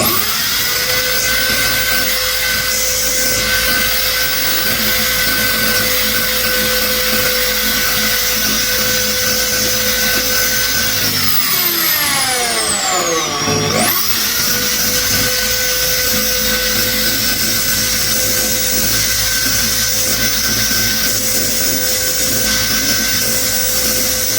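A power drill spins a grinding stone, first a coarse one and then a fine one, to sharpen a tool. A loud, steady whine runs throughout, and its pitch dips and recovers partway through as the stone bears against the metal.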